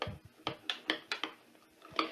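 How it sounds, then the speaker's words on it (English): Utensil clinking and scraping against a bowl in repeated strokes while a batter-like mixture is stirred, a close, fairly quiet kitchen rhythm of about ten knocks with no talking. "I'm going to put them into my mixture and stir it around"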